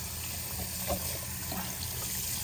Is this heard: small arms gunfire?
no